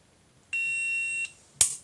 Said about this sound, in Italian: a ogni variazione di tensione lui sta emettendo un beep